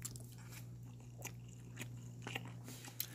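A small cooked crab is bitten and chewed up close during a seaside island fishing trip, quiet crunchy bites and crackles repeating irregularly over a low steady hum, no talking.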